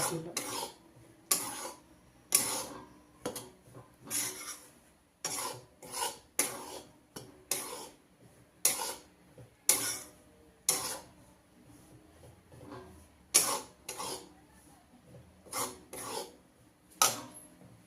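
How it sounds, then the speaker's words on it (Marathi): Gram flour (besan) roasting in a pan for ladoo is stirred continuously, giving repeated close scraping and rasping strokes of the spoon against the pan in an uneven rhythm, fairly quiet, with no talking. "सारखं हलवत राहायचं बेसन खाली नाही लागलं पाहिजे"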